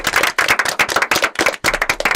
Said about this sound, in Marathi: एकदा स्वतःसाठी जोरदार टाळ्या वाजवा तुम्ही